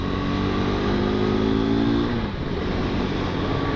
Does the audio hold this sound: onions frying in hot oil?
no